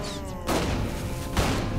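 Gunfire in the video game Saints Row The Third during a zombie fight, two sharp booming shots about a second apart, loud and close over game ambience.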